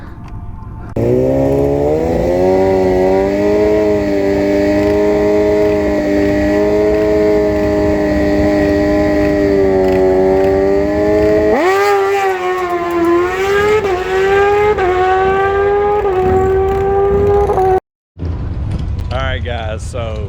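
A Suzuki GSXR 1000 and a Kawasaki ZX10R race head to head, a loud sustained engine whine holding steady before rising sharply through gear changes, with a brief dropout near the end and voices faintly underneath.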